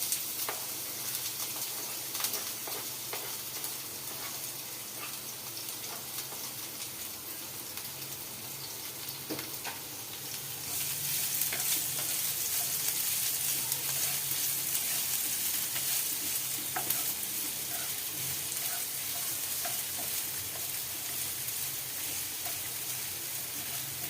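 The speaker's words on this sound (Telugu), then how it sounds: "ఇప్పుడు ఏం చేయాలంటే ఆనియన్స్ వేసేద్దాం." Onions frying in a pan at home, with a steady broadband sizzle that grows louder and denser about halfway through and carries on without pause, no talking.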